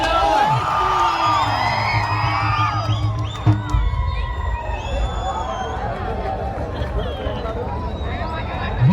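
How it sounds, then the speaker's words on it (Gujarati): A crowd at a Krishna Janmashtami matki fod pot-breaking contest cheers, whoops and whistles for a small child, a loud continuous roar with sharp whistle-like peaks, heard under an announcer's talk. "અરે નાના બાળક માટે તાળીઓ ને સીટીઓ થઈ જાય."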